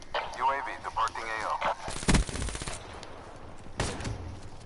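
Shotgun blasts ring out in a free-for-all online shooter match, two loud booming bursts with echoing tails over game ambience, preceded and mixed with a voice talking.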